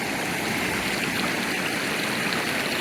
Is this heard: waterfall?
yes